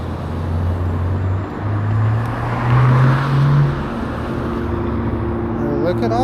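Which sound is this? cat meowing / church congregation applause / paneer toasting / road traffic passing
road traffic passing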